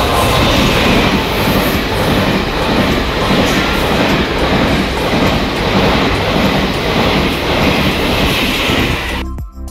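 A loud train rumbles past nearby at an old railway station along Route 1 in Taiwan, with continuous clattering wheels and a steady roar, no voices, ending abruptly.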